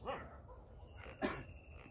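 A dog gives a couple of short barks and yips with a whimpering edge during an obedience training session, close by and fairly quiet, with a sharper burst about midway.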